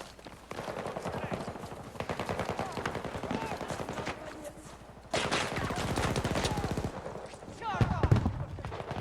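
Rapid bursts of gunfire in a video game, bouts of dense popping shots repeating over several seconds, with a player's voice talking over parts of it.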